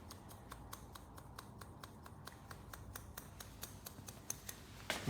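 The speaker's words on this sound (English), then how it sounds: "I'm using my longer scissors here from Sakura, and I'm putting the tip of my blade here" Long Sakura hair-cutting scissors snip through long layered curly hair in a steady series of crisp, close clicks, about twenty quick cuts in a row over a faint background.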